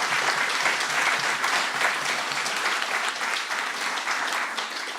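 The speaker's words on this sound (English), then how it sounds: "Let's have a round of applause for that" A room full of people applauds 26 new students at the launch of UVic's Indigenous law degree program; dense, steady clapping holds loud and even throughout, with no voices over it.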